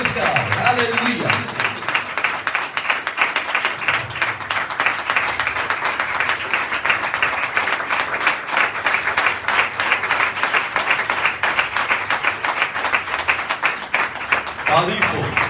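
Congregation at a Pakistani church worship service gives loud, sustained applause and clapping, a dense steady roar of many hands filling the hall, with voices calling out over it.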